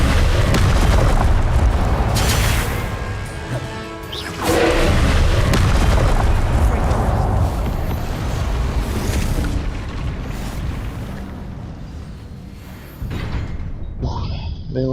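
Incendio fire spell cast in Hogwarts Legacy, a loud booming blast with roaring fiery rumble that swells again midway, surrounded by other spell impacts, with a voice speaking over it.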